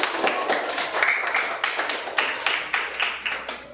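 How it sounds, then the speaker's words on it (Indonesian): A classroom audience claps for a presentation group, a fairly small scattering of hands with distinct, uneven individual claps running loosely across the few seconds. "Kita beri tepuk tangan dulu untuk kelompok 1"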